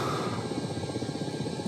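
Aircraft engine drone from a flight video game while taxiing, a steady, loud, continuous hum with a slight rhythmic throb and no voices.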